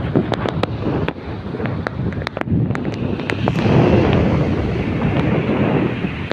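Wind by the sea on a hot day, a steady rough gusting rush buffeting the microphone, with faint scattered clicks and a low surf-like wash underneath.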